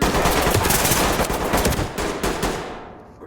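Rapid bursts of video game automatic gunfire crackle loudly and continuously, then trail off into a fading echo.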